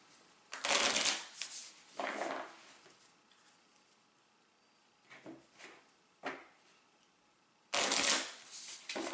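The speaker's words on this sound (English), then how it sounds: "I'm going to shuffle all these together in one big stack." Several bursts of a stack of game cards being shuffled together for a deckbuilding board game, close and crisp with short pauses between riffles and no talking.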